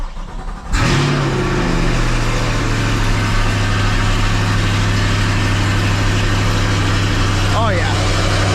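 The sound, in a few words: catless C8 Corvette engine idling while warming up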